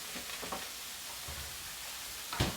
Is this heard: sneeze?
no